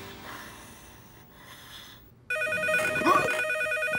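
A telephone rings loudly in a cartoon household, a steady electronic ringing that cuts in abruptly partway through after a quieter stretch of background sound.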